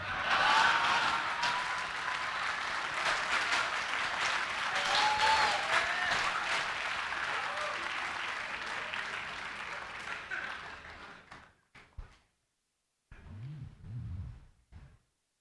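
Sustained audience applause at a Hindi poetry recital (mushaira), loud and dense for about ten seconds, then fading into a pause before brief voices and scattered sounds return.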